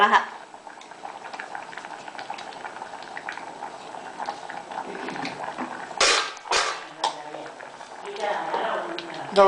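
A pot of liquid bubbles at a boil in a home kitchen during preparation of a Tamil porichakozhambu, a low continuous simmer with a few louder bursts of bubbling, while a person talks over it.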